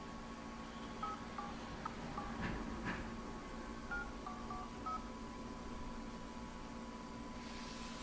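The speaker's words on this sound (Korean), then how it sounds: "다시 한번 전화해 보겠습니다." Telephone keypad dialing tones from a phone during a call attempt, a string of short DTMF beeps spaced irregularly across the first five seconds over a steady background hum, then line noise with no speech.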